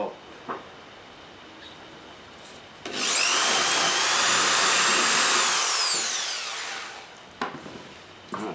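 A power drill bores a dowel hole into wood: a few faint knocks, then a loud whirring, grinding bite lasting about four seconds that tapers off, followed by light handling taps.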